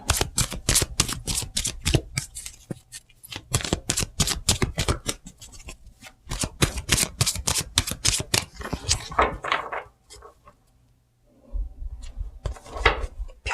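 A deck of cards is shuffled in rapid bursts of crisp, fluttering riffles and snaps, close and loud, with a pause of near silence before a final flurry of shuffling.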